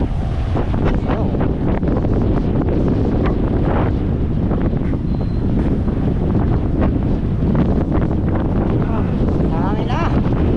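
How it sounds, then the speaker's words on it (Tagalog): Strong wind blowing across a sandy beach, roaring loudly and continuously against the microphone with no pause, with only faint background voices under the gusts. "Lakas ng wind. Tayo buhangin naglipara."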